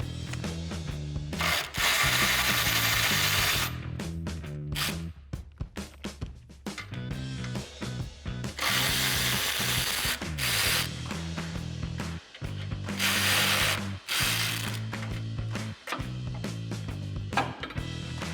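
A ratchet removing 15 mm bolts from the frame of a 2016-2018 Silverado 1500 during a front bumper install, with loud, rapid clicking runs broken by brief pauses, close up and free of talk.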